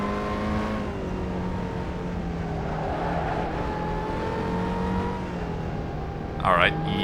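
Race car engine in the racing game Assetto Corsa, a sustained droning whine holding steady pitch with slight rises and falls, a brief louder burst near the end, heard continuously without pause.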